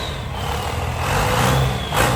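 A $100K pickup truck's engine runs steadily as it strains to move in four-wheel drive while off-roading, a continuous low rumble that swells slightly in loudness near the end, with no talking.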